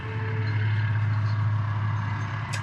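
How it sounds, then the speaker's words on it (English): A loud truck rumbles past close by, its heavy low engine drone steady throughout, with a brief hiss near the end like an air brake. "Here comes a loud truck."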